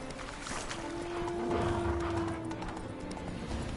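Hoofbeats of Roach, a horse in the Witcher 3 video game, clip-clopping steadily across the whole stretch at moderate loudness, with a faint voice in the background.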